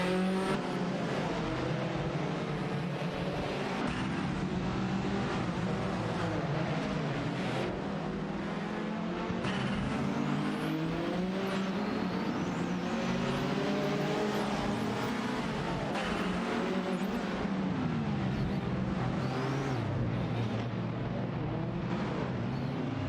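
Engines of race cars in a racing video game, including a BMW 2002, drone and rev continuously in a dense, steady roar, with several cars overlapping as they battle closely for position.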